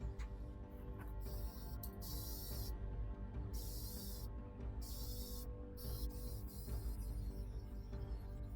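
Primer paint sprays from an aerosol can onto thrifted items in several separate hissing bursts, each a few seconds long, over a steady low background hum.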